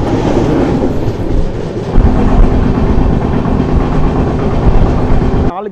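The Bengaluru-Tirupati Intercity Express running at speed, a loud steady rumble and rattle of the carriages with rhythmic clatter of wheels on rails, heard from inside and continuous throughout.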